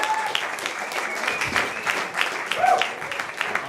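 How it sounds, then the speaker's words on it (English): Audience applause at an improv comedy show, a dense burst of many hands clapping close by that rises and swells slightly toward the end, with crowd noise mixed in. "Give some applause to come back here."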